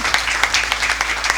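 Steady, fairly loud applause from a studio audience on a Congolese television programme, many hands clapping evenly throughout with a low hum beneath.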